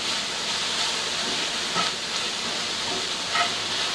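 Onions, peppers and garlic sizzle steadily in a pan, a continuous broadband hiss with faint pops and no talking.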